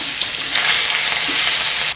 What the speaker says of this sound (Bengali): জিরেটা ফুটে আসলে দিয়ে দেবো পেঁয়াজ বাটা।